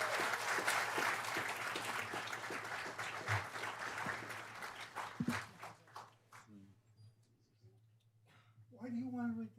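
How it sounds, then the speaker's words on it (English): Applause breaks out at a San Bernardino County Board of Supervisors meeting for a retiring county worker, then dwindles into scattered claps before voices begin talking near the end. "Give a round of applause for Cecil."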